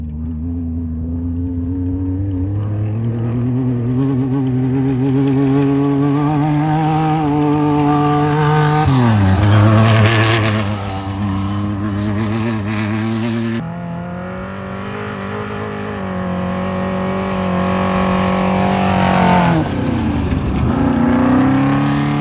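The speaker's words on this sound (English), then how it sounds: "I just got passed by the trophy truck" A Class 1 desert race car drones loudly from inside, its engine rising and falling through gears, and near the middle a louder trophy truck sweeps by with a swelling roar and pitch drop, then the engine climbs again.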